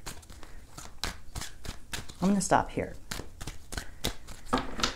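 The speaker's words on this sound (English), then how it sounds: "Let me give these a few shuffles." A deck of tarot cards is riffled and shuffled in several quick, crisp bursts close to the microphone, interleaved with someone speaking.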